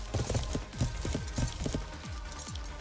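Horse hooves clip-clopping at a steady gallop while riding horseback in a video game, a repeating run of loud, close thuds throughout with no talking.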